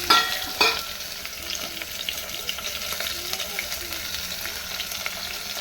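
Mutton pieces frying in a hot pan for a mutton curry, with a steady bright sizzle and a sharper burst as the meat hits the oil near the start, then continuous crackling and faint stirring.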